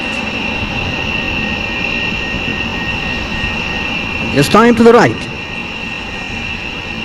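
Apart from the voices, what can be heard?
HAL light utility helicopter performing a stall turn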